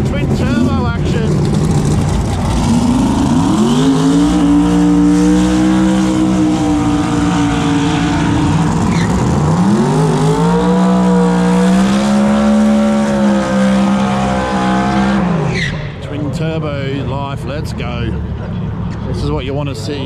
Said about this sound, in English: That Hemi life, twin turbo, the sound, you just can't beat it.